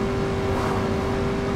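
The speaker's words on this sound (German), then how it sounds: "die Geräusche, die vorbeirauschenden Autos, sind doch ziemlich geil gemacht" Cars in Driver San Francisco roaring past in a steady, loud engine drone with a sustained hum, brief and continuous without pauses.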